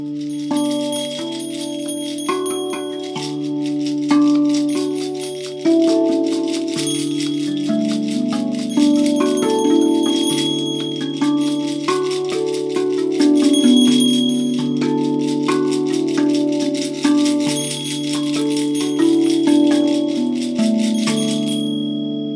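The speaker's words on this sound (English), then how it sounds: "like shakers and bells happening at the same time" Shakers and bells play together in a sound healing session: bright, ringing bell tones layered with continuous rattling shakes in a gentle, repeating pulse, close and clear throughout, with no talking.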